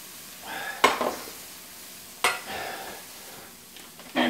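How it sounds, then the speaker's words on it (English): Chopped vegetables stirred into a hot gumbo roux with the fire off, giving a soft sizzle and scraping strokes of a spoon in the pot, with three sharp clacks against the pot's side. "stir them until they quit sizzling."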